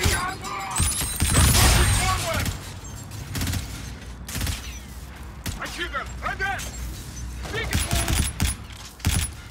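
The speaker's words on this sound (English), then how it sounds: "I shoot them!" Heavy gunfire in the video game Call of Duty: Infinite Warfare, with dense bursts of automatic fire, booming shots and clattering impacts, loud and nearly continuous, with voices talking over the shooting.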